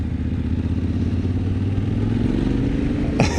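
A Yamaha Tenere 700 motorcycle engine runs nearby with a steady mid-pitched drone and slight rising revs, ending in a short clatter.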